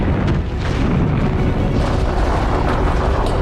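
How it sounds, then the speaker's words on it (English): A rocket ignites and lifts off in the film Hidden Figures, a loud, continuous, dense roar of engine thrust and rumble that holds steady throughout. "We have ignition. And we have liftoff."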